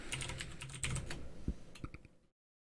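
Computer keyboard keys tapped in a quick irregular burst while editing in Photoshop, close and fairly quiet, with a few harder strokes before the clicking stops into silence.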